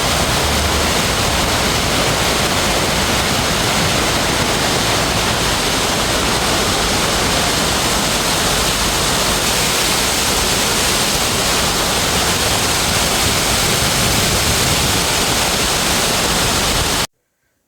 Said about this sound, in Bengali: দেখুন ঝর্ণাটা।